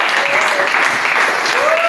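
Church congregation applauding during a French-language worship service, a dense continuous wash of clapping filling the space, with voices rising faintly underneath throughout.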